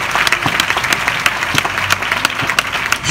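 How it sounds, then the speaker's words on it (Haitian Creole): A church congregation applauds together, a steady dense wash of many hands clapping close and loud, with sharper individual claps poking through in an irregular rhythm. "Acclamez l'Éternel des armées."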